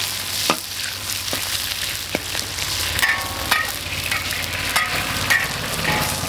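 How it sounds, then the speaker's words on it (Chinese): Pork stir-fried in a little oil in a wok, a continuous close sizzle with occasional sharp scraping clicks from stirring. "下入这个猪肉，炒，把这猪肉的油炒出来。"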